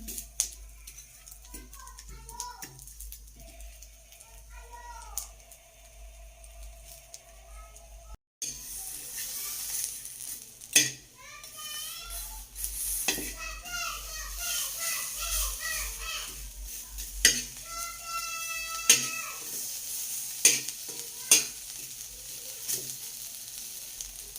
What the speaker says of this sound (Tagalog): binibiling na po natin ang ating inihaw na tuyo sa kawali.